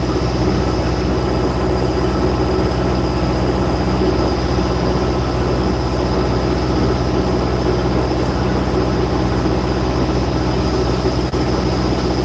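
Boat motoring on a calm sea under diesel power, the engine droning in a loud, constant, unbroken rumble close by, with no talking.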